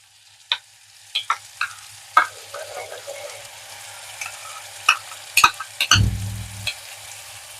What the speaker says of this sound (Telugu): ఇలా లైట్గా వేగిన తర్వాత ఈ మసాలా ఇందులో వేసేసుకోవాలి